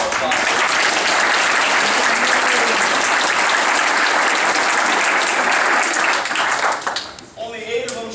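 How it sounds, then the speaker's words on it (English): A crowd at the 2013 Larimore football banquet applauds the junior high football team with loud, dense clapping for about seven seconds, then it fades quickly and a voice takes over. "Give her all applause"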